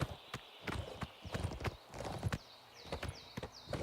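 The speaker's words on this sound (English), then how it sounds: "Good horsey. Look at him just pounding down this hill." Hooves of a horse galloping downhill in the video game Oblivion Remastered beat out a quick, uneven clip-clop rhythm, with a sharp strike every fraction of a second, close and distinct.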